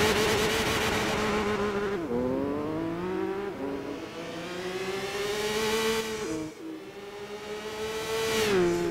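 A rally car on mud tires in Gran Turismo 6 revs hard through the gears, with rising and falling engine tones, shifts and brief tire squeal, loud and close with no talk.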